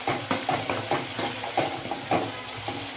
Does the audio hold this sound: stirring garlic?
yes